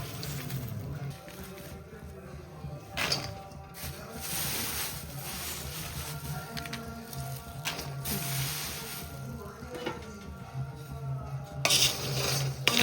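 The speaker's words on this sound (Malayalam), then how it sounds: "ഇനി നല്ലതുപോലെ വറുത്തെടുക്കാം" Frying and stirring in a pan, with a metal utensil scraping and clinking against the pan over a steady low sizzle, irregular knocks and scrapes recurring throughout, with no talking.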